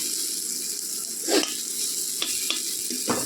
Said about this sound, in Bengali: এই দেখো মশলাটা একদম ভাজা হয়ে গেছে